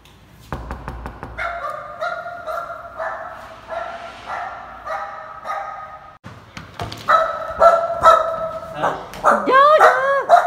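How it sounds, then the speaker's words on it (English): Small dog barking and yipping in repeated bursts close by, growing louder and more excited toward the end, with a few whimpers mixed in. "Hello, dog. Small dog."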